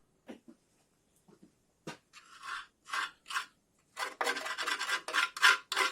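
A barbecue spatula scrapes road dirt and old oil off the subframe of a Triumph TR7 during restoration, in a series of close, rasping strokes that quicken into rapid back-and-forth scraping toward the end.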